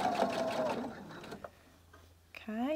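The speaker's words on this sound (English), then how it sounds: "I'm just going to start sewing. And as I sew, it will feed the fabric through." Sewing machine stitching bias binding onto fabric, a fast even whirr up close for about a second and a half before stopping, then quiet handling and a voice starting at the end.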